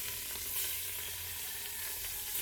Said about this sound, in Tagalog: Kapag mainit na ang ating mantika, pwede nating ilagay ang ating beef.